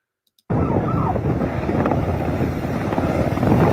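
Firefighting helicopter flying over a fire to drop water, its engine and rotor roar cutting in abruptly and holding steady and loud, with gusty wind noise on the microphone.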